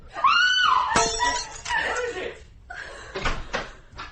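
A drinking glass is dropped and shatters, giving a sharp crash followed by tinkling fragments. It comes just after a high scream, and a second clatter sounds later.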